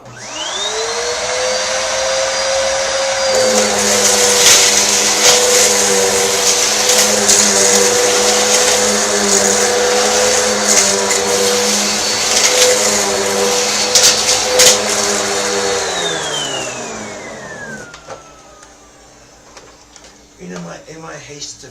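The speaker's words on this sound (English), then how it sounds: "Vacuuming my carpet, and it seems to have thrown it into a section there." A loud vacuum cleaner roars steadily with a high whine while running over carpet, then powers off and its motor winds down toward the end.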